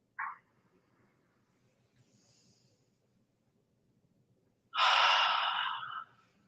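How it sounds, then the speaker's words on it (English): Deep diaphragmatic breathing during a morning exercise routine: a brief sharp intake, a quiet pause, then a long, loud, voiced 'ah' exhalation lasting over a second, close to the microphone. "that is a complete diaphragmatic breathing"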